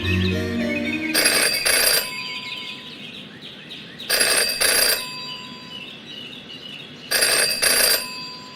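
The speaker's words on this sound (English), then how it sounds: "Jenny had learned never to ignore a ringing phone." A telephone rings in the video game Jenny LeClue, three bright double rings spaced a few seconds apart over quiet ambient game sound, with no voices.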